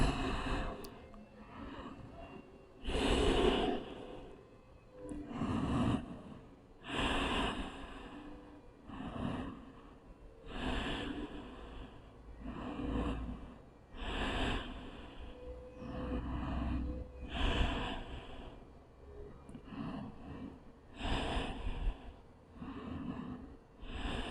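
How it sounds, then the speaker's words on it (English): Slow, steady breaths during a yoga child's pose in a vinyasa class, a run of breathy inhales and exhales at an even rhythm with snort-like nasal edges, close and moderately loud. "Breathing."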